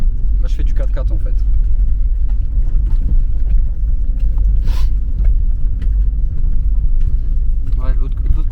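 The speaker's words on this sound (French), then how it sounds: "Là je fais du 4x4 en fait." A 4x4 vehicle grinding along a rough dirt track in rural Bosnia, a steady low engine and road rumble heard from inside with occasional knocks and rattles from the uneven surface, constant throughout.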